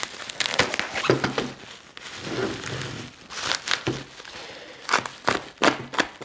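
Plastic packaging around a Carten RC car chassis is unwrapped close by, with irregular crinkling, crackling and tearing bursts coming in quick clusters between short pauses.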